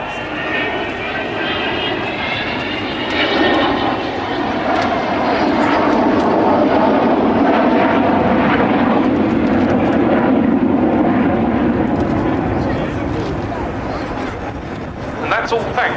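An Avro Vulcan jet bomber flies on the display circuit at an air show at Filton, a loud, continuous, roaring jet engine sound that swells and holds for the full stretch with some wind buffeting.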